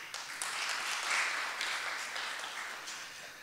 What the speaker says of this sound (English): Let's give him a big round of applause for this.